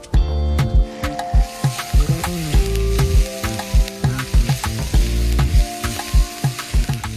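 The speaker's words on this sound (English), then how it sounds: "chop up a couple of onions and a jalapeno. Get that sauteing in your pan until softened." Onions and a jalapeno sautéing in a pan with crumbled tofu give a steady sizzle, broken by frequent stirring clatters and scrapes of a utensil against the pan, close and fairly loud.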